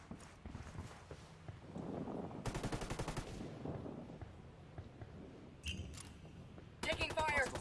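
Gunfire from hostiles in Ghost Recon Wildlands PvP, a few short, fairly faint automatic bursts amid movement sounds and background game noise.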